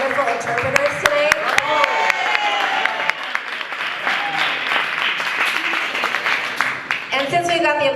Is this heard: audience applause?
yes